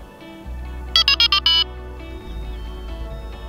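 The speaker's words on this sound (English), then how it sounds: "That's the emergency alarm going off, saying that someone is fiddling with my alarms." A short electronic anti-theft emergency alarm on a Delkim fishing bite alarm gives five quick high-pitched beeps in a row over a steady low hum, then the hum carries on alone.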